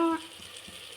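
Food frying in a pan on the stove while a rice dish is being cooked: a faint, steady hiss of sizzling that lasts about a second, right after a brief tonal sound.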